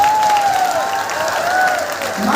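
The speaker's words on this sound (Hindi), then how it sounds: "तो बाबा साहब के लिए जोरदार तालियां" Brief burst of crowd applause at a political rally in Tikamgarh, Madhya Pradesh, loud dense clapping with a thin whistle-like tone gliding above it, no speech heard.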